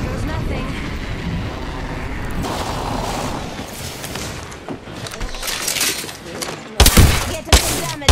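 Video game gunfire crackles in bursts amid shattering and mechanical clatter, loud and dense, with a sharp cluster of shots near the end.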